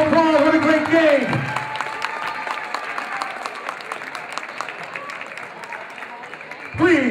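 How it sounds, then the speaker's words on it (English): A crowd applauds after a high school basketball game in a gym, loud clapping under an announcer's amplified voice talking over it, fading then swelling slightly at the end. "Let's give both teams a big round of applause."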